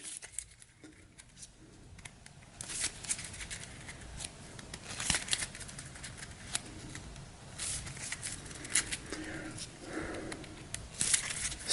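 Cards are shuffled again and again during a Hero Realms tabletop game, giving soft, close riffling and crisp flicks that come in uneven bursts with no talk over them.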